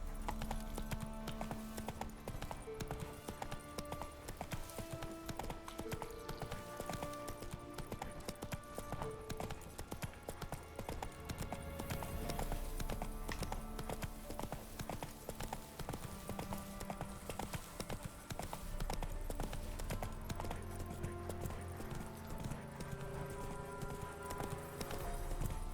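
Horse hooves clip-clop in a steady walking rhythm throughout the Witcher 3 video game, with the continuous game ambience and music underneath, and no talking.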